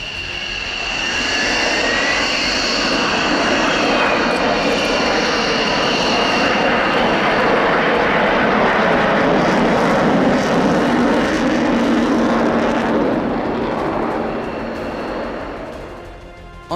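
Avro Vulcan jet bomber in flight, its engines giving a loud, sustained howling roar that swells and holds for many seconds before fading away, with no voices.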